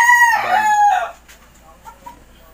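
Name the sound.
rooster crowing on a game farm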